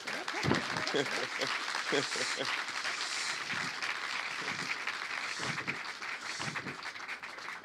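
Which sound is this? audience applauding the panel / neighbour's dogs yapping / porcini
audience applauding the panel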